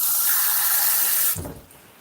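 Tap water runs steadily from a kitchen faucet while steamed tilapia is being prepared, a loud, continuous hiss that cuts off abruptly near the end, leaving a brief softer trickle and clatter.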